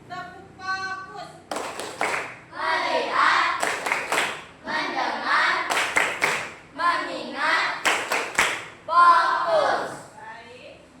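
A class claps along in a rhythmic 'tepuk fokus' clap routine during a lesson, sharp clap bursts in short patterned groups mixed with children chanting and a teacher's voice.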